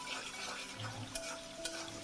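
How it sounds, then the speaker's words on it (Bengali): Onions stirred and frying in a pan for chicken curry, a soft sizzle with a couple of faint scraping stirs, quiet and close without talk. "পেঁয়াজ দিয়ে একটু নাড়াচাড়া দিয়ে ভালোভাবে পেঁয়াজটা একটু ভেজে নিব"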